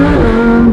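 Supercharged Lamborghini Huracan under hard acceleration, a loud, close, sustained engine roar holding a steady strong tone for under a second.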